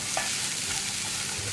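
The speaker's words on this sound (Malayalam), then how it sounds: "ചേനയും ചേർത്ത് നന്നായിട്ടൊന്ന് ഇളക്കി മിക്സ് ചെയ്യുക." Chopped elephant foot yam being stirred in a frying pan for chena mezhukkupuratti, a steady close sizzle with soft scraping of the spoon throughout, no voices.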